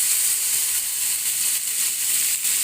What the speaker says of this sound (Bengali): ফ্রাই করে নেব।